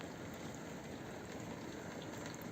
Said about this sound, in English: rain's pouring down that glass there.